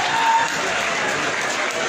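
Steady applause from a crowd, a dense wash of many hands clapping at once, fairly loud and sustained throughout.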